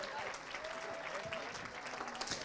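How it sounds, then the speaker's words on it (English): A crowd at an awards ceremony keeps up steady applause, dense clapping throughout, with a voice speaking over it. "They have to clap. Keep going. Keep the noise up."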